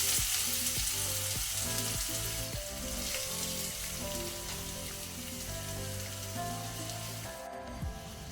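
Two finely chopped onions fry in hot oil in a pan for a Kannada-style corn, radish and dill leaves palya, giving a steady close sizzle with occasional stirring clatter and no talk.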